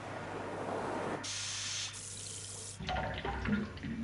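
A library water sound effect: bursts of rushing, splashing water like a running tap, a loud spray in the middle, then shifting, bubbling flow, close and steady.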